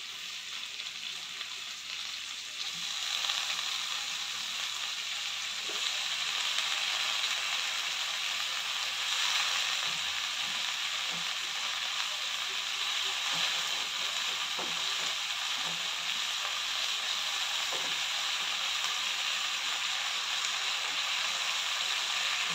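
Washed gongura leaves frying in a pan, a steady, bright sizzle that swells early and holds, with occasional soft scrapes and clicks of stirring underneath.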